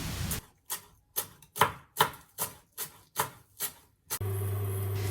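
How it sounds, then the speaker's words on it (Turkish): Steady knife chops through dill on a board, about ten evenly spaced crisp strikes, close up, ending in a sustained hum. "Bir tutam dereotu doğranır."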